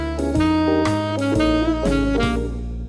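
Solo saxophone plays a short, dark blues phrase built on the minor blues scale, a handful of sustained and sliding notes in quick succession, loud and close with no talking.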